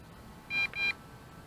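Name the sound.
Potensic D80 drone camera start beeps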